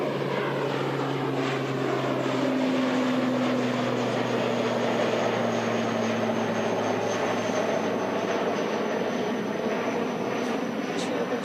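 A propeller airliner drones steadily on the departure pads at Christchurch Airport, its loud engine hum holding nearly constant with a slowly shifting pitch and no break across the whole stretch.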